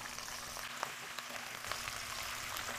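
Chicken pieces stir-fry in sesame oil over medium-low heat, giving a soft, steady sizzle with faint crackles and pops scattered through it. No voices are heard.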